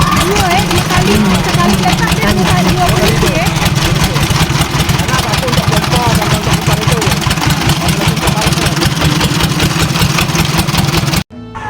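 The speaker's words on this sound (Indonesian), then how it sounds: "ini adalah mesin genset yang digunakan dalam pengolahan tanaman" A generator set engine at a sago processing site runs loudly up close with a fast, steady thumping rhythm, and a voice talks over it.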